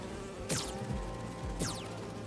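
Insect buzzing in the video game Marvel's Spider-Man 2, a steady faint drone of bees with two quick whooshing sweeps passing over it.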